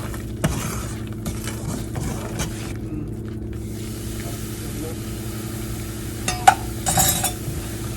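A spoon scrapes and stirs a thick Mysore pak mixture with ghee in a hot pan, soft steady scraping over a low hum, with a few sharper clinks near the end.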